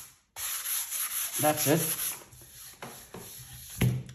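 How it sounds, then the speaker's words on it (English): Soft, quick rubbing strokes of light sandpaper on oiled wood, close by and fairly quiet, with a brief spoken remark partway through. "So therefore we'll just sand extremely slightly."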